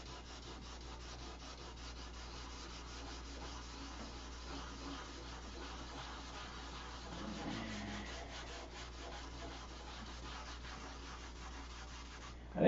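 Steady back-and-forth rubbing of sandpaper smoothing a piece of wood, a continuous soft rasp with even rhythm, close but low in level over a faint hum.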